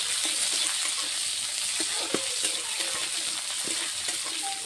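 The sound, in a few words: onions frying in oil with cumin and mustard seeds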